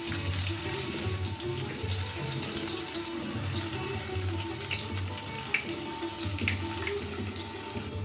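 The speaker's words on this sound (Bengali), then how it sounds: "এবার এই ভাজাটাকে আমি একটু লাল লাল করে ভেজে নিলেই এক পিঠ ভাজা হয়ে গেছে।" Flattened fritters of masoor lentil and kachki fish fry in oil with a loud, continuous, close hiss and fine crackle, steady throughout with no talking.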